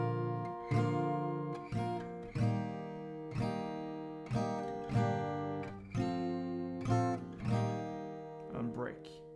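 Acoustic guitar strumming the pre-chorus of a song, with close, ringing chords struck about once a second in an even pattern and each left to decay before the next.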